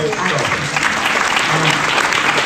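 Sustained applause fills a conference hall at the Leadership 100 Conference in Palm Beach, a dense, steady wash of many hands clapping throughout, loud and continuous with a voice faintly underneath.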